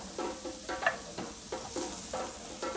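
Quartered mushrooms sauté in a pan of butter and leeks, sizzling steadily while a spoon stirs them in regular scraping strokes, close and moderately quiet.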